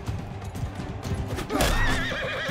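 In the Mount and Blade II: Bannerlord video game, a horse gives a loud whinnying neigh amid clip-clopping hooves and battle noise, the neigh rising sharply toward the end.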